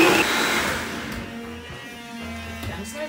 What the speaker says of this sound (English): We blend that ish.